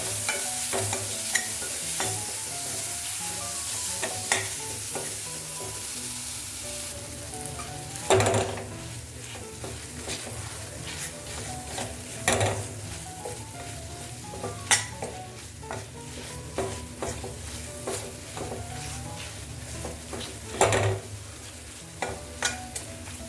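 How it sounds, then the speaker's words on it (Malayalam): Two medium tomatoes sauté in a pan for channa masala, a steady sizzle running under repeated sharp clinks and scrapes of stirring against the pan, fairly close and without talk. "നന്നായിട്ടൊന്ന് വഴന്ന് വരട്ടെ."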